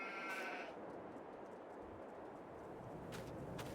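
Sheep bleat amid a continuous bed of farm noise in Farming Simulator 22, one fairly clear bleat near the start and fainter calls later, with no talking.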